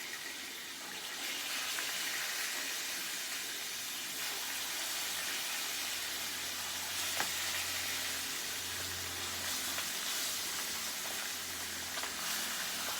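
Fish frying in a pan makes a steady, close sizzle that holds through the whole stretch, with a low bubbling rumble rising partway through and no talk over it.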